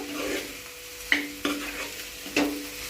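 Cauliflower and pea curry with chilli powder being stirred in a pan, three distinct scraping strokes of a spoon over a soft background sizzle, close and without speech.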